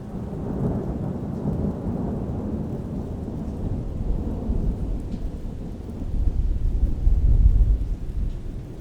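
A thunderstorm pours steady heavy rain over a city park in Manitoba, with a deep rolling rumble of thunder swelling near the end, no voices.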